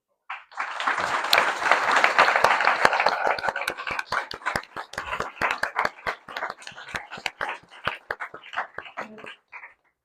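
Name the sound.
audience applause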